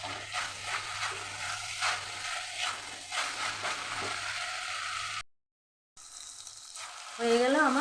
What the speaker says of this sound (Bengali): ঢেঁড়সটা দিয়ে দিলাম, ভাজা ঢেঁড়সটা